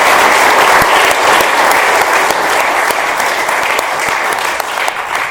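Sustained applause from an audience at an AA meeting fills the room, dense, even clapping that holds loud throughout before easing slightly near the end.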